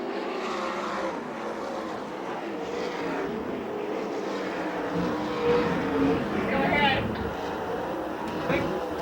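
Sprint cars race on the last lap at a dirt oval in Perris, California, a loud, continuous engine roar with rising and falling passes, heard at a distance under a public-address announcer's voice.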